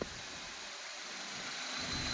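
A 2008 Maruti Wagon R's four-cylinder petrol engine idles with the bonnet open, giving a faint, steady hum with no knocks or irregular noises.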